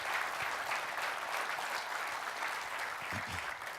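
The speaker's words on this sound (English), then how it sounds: "So again, a round of applause for our honorable mentions." An audience at an IT awards ceremony gives honorable mentions an even, sustained round of applause, a fairly distant wash of clapping with a few low murmurs underneath.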